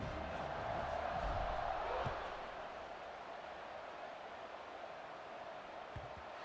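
Stadium crowd noise in EA Sports College Football 26 ahead of a kickoff, a steady roaring swell that is louder for the first two seconds and then settles into a softer continuous murmur with occasional thumps.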